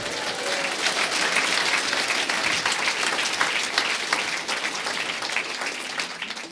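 A church congregation applauds loudly for Christ Jesus during a service. The dense, steady clapping of many hands holds for several seconds before fading slightly at the end.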